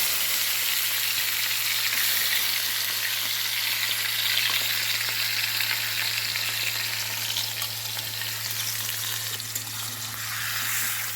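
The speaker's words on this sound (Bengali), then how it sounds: "ঘি গরম হলে ম্যারিনেট করা চিকেনটা এর মধ্যে দিয়ে দেবো" Marinated chicken frying in hot ghee in a pan for Mangalorean chicken ghee roast, giving a steady, dense sizzle throughout with a constant low hum underneath and light stirring scrapes.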